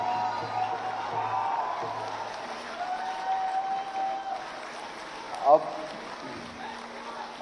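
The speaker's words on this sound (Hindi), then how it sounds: "तालियां रुकनी नहीं चाहिए भाई, सेफ सॉइल होते रहना चाहिए।" Applause from a crowd at an environmental soil-saving event with a spiritual leader and a chief minister, a steady wash of clapping with some cheering, speech mixed in throughout.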